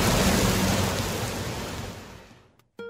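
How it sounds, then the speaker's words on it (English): Steady rain falls outdoors as a dense, loud hiss that slowly fades away before cutting off abruptly. "Uh-oh, here comes the rain again."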